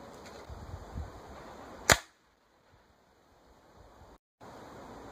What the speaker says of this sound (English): Would it stop an air rifle? Next up is the Daisy 880,